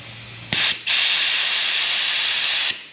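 A steady mechanical hiss of a hand vacuum pump drawing air while bleeding a motorcycle clutch, with a brief stop and restart early on, then running continuously before cutting off.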